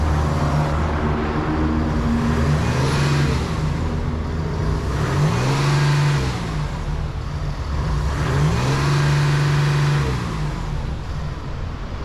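Next Gen Ford Ranger engine running close by, a steady droning idle punctuated by three smooth revs that swell and fall back, with no voices.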